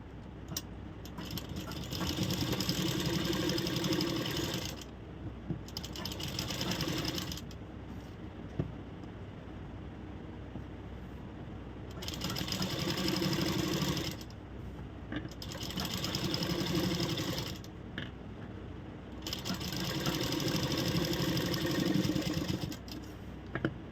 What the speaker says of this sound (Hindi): पहले नेक पे सिलाई लगाएंगे एक बराबर शेप को करते हुए